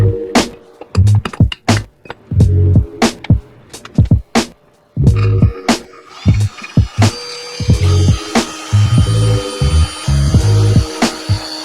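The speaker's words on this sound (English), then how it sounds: "So I'm gonna drill it by hand, then we'll tap it, put the screws in" Metal is drilled by hand on an engine part in a workshop, a run of sharp, irregular strokes and scraping bursts, close and fairly loud, with short pauses between groups of turns.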